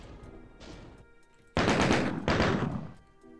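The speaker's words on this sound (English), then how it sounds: "That's the last fucking rocket I'm shooting over there." Doom 2 rocket launcher fire, a quiet shot followed by two loud, broad blasts in quick succession, close and explosive, then fading.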